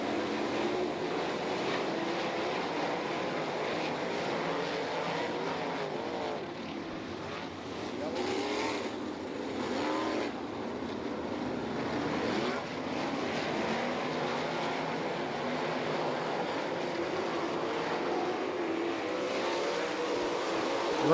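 410 and 360 sprint cars race around the dirt oval at Attica, Ohio, a dense continuous engine roar from the pack held throughout, with faint talk underneath.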